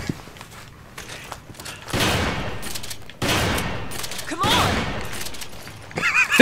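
Gunfire in the co-op game Resident Evil 5, with several bursts of shots over about six seconds. People talk over the shooting.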